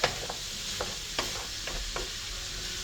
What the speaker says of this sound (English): get a good sear on this adouli sausage. I'm going to get this on high now.